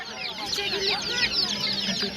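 Chickens cluck continuously at a busy poultry market in Khorezm, a dense, steady chorus of hens and chicks close by, with faint human voices mixed in underneath.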